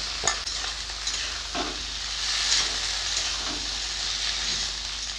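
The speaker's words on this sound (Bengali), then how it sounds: "দিয়ে ভালো করে ভেজে নেব।" Bitter gourd slices sizzle in hot oil with browned onions, with a steady frying hiss and a few sharp scrapes of a spatula stirring the pan.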